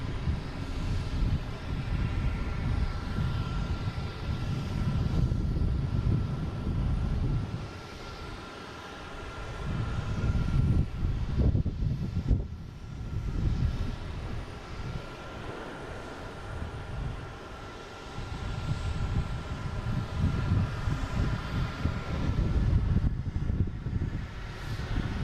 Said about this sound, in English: we have UPS coming in from Ontario. Heading on 4 right. Flight 5012, 767-300.